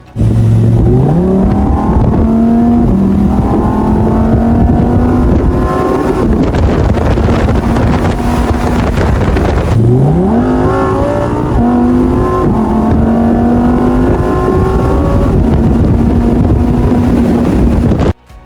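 A Lamborghini Temerario super sports car engine roars loudly, revving up through gears twice with rising pitch, heavy wind rushing over the microphone.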